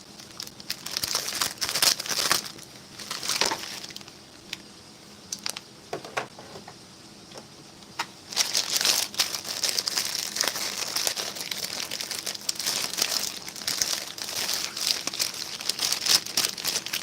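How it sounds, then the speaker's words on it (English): A civilian survival daily ration pack wrapper being cut open and handled up close, its plastic crinkling and rustling in loud, irregular bursts with a quieter pause midway, then steady crackling to the end, no talking. "I'm just going to cheat and cut this one open."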